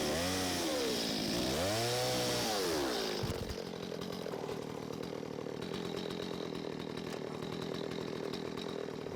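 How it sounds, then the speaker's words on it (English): Chainsaw cutting the high spots off a log before milling, the engine revving and bogging in sweeping pitch arcs for about three seconds, then settling into a steady, loud running drone. "I'll just go through with my chainsaw and cut away the high spots"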